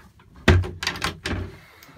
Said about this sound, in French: Avec une porte coulissante du même type que celle qu'on va retrouver dans le 1095